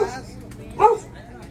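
A little dog, a puppy, gives one brief yip close by, heard against steady background voices and chatter.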